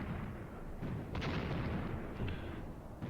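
Artillery firing in the Graviteam Tactics war game, a rumbling series of deep booms and blasts rolling over each other in a continuous barrage, moderately loud with no talking.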